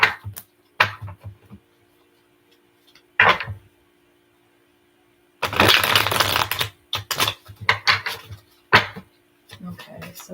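A tarot card deck shuffled by hand in short, papery bursts, with a few quick taps and a longer riffling stretch in the middle, fairly close and alone.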